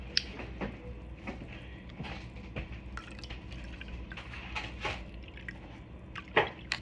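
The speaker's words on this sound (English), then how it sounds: "Add some Fanta in, and maybe give it some bless the bubbles" Fanta soda trickles and drips into a drink in a steady, wet patter of small splashes and fizzy pops, fairly close and with no talking over it.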